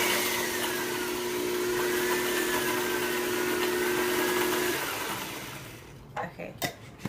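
A mixer whirs slowly through mayonnaise ingredients with lemon juice and sea salt, a steady motor whine for about five seconds before cutting off, followed by a few light clicks.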